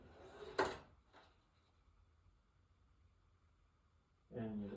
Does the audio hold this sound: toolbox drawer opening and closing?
yes